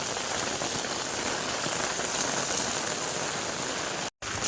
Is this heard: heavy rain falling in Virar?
yes